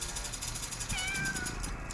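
A cat meows once in The Floor Above demo, a short rising-falling call heard over a constant noisy game ambience.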